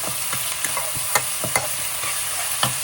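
Minced meat frying in a wok for fried bee hoon gives a steady, loud hiss of sizzling oil, broken by sharp, irregular scrapes and taps of a spatula as it is stirred, with no talking.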